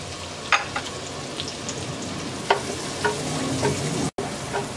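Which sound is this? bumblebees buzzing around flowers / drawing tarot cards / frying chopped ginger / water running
frying chopped ginger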